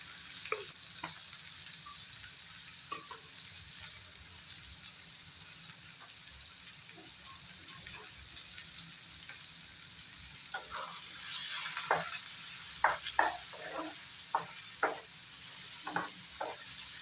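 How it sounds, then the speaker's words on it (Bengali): Chopped onion frying with ginger and green chili, seasoned with black pepper and turmeric, for a kabuli chickpea masala fry: a steady soft sizzle throughout, with scattered clicks of stirring growing busier toward the end. "এখন আমি ভালো করে পেঁয়াজটাকে লাল লাল করে ফ্রাই করে নেব।"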